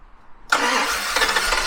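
A Dodge 318 V8 engine cranks and catches at once, settling into a loud, steady rumble that fills the rest of the clip, with no voices.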